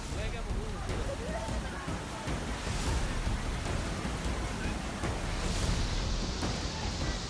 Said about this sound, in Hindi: जयपुर में आज सुबह से ही झमाझम बारिश हो रही है।